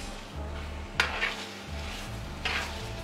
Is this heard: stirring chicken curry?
yes